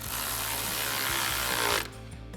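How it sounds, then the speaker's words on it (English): A ratchet driving an 8mm socket on an extension buzzes in one continuous fast whirr as it tightens a hose clamp on a cold air intake of a Ford F-150 EcoBoost, then it stops abruptly, and nobody speaks. "To tighten this hose clamp down, we're going to be using an 8mm socket"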